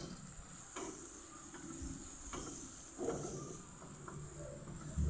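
Two small tomatoes fry in a pan for a methi greens dish with peanuts, giving a steady, close sizzling hiss with a few soft stirring scrapes.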